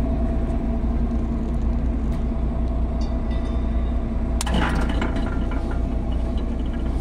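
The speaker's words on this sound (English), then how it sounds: "Turn on the pump." An asphalt distributor's pump runs with a steady, loud low rumble and drone, unbroken throughout, with a brief clattering burst midway.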